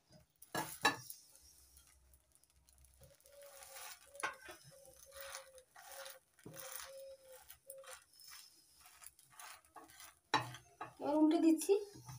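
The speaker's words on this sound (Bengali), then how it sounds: "আর একটা কোয়ার্টার পাউরুটি সেঁকে নেব।" Bread slice toasting in a hot pan for a tiffin snack, with faint sizzling and a series of short scraping, pressing sounds from a spatula, ending in a louder clatter of utensil against pan.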